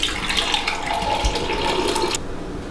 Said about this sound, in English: Alright, I'm gonna add a couple tablespoons of water